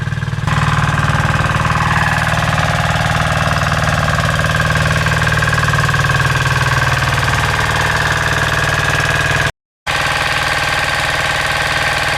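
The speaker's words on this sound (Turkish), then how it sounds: "Şimdi traktörü çekeceğim." A tractor engine runs steadily at a loud, close, rumbling idle with a knocking throb, cutting out for an instant near the end.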